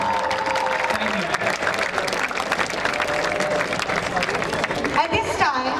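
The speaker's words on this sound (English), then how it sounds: "Please give another round of applause for our best goalkeeper and most valuable player of this encounter." A crowd applauds at a school football trophy ceremony after a match between Gateway College and S. Thomas' College. The clapping is loud and sustained, with scattered cheers and voices mixed in, and ends in a burst of louder noise.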